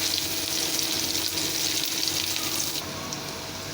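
Cumin, onion and garlic hit hot oil for a dal tempering with red lentils and Malabar spinach, producing a dense, continuous loud sizzle that eases slightly toward the end, with no talking.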